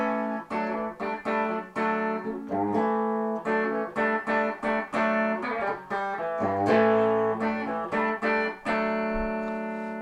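An overdriven PRS electric guitar through a PRS MDT tube amplifier plays a rhythmic riff of chopped, distorted chords, ending on a sustained ringing chord.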